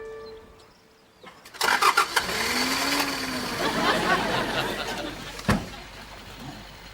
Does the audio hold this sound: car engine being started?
yes